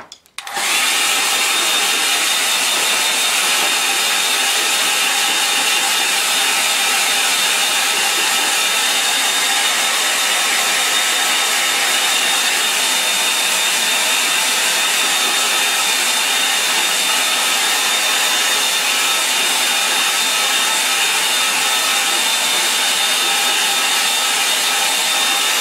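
A hair dryer switches on and blows steadily over a watercolour river painting, a loud unbroken whooshing hum held close for the whole stretch with no talk.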